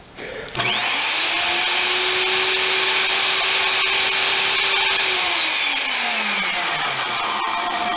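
A Skilsaw SPT77WML worm drive circular saw, being checked for repair, switches on with a sharp jolt, then holds a loud, steady high whine before winding down in a falling tone as the motor coasts to a stop.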